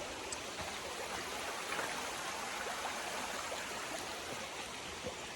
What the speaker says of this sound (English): Looks like we're coming up to some more really pretty waterfalls.